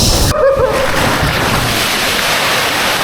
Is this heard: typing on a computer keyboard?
no